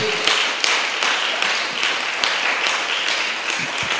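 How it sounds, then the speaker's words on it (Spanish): Steady crowd applause at a church service, many hands clapping together continuously, dense and loud throughout. "Alábelo una vez más con un aplauso"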